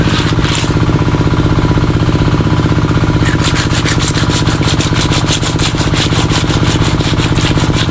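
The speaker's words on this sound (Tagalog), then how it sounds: "Nakaskas mga buddy nang matanggal yung lansa." Mudfish (dalag) is scraped to remove slime, giving a loud, fast, rhythmic rasping and rubbing that repeats steadily throughout, with no voices.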